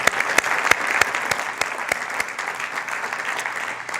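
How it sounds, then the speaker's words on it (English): An audience at a university distinguished lecture applauds the Tucker Center team, a steady wash of many hands clapping throughout, with a few sharper individual claps standing out near the front. "How about a round of applause for the Tucker team?"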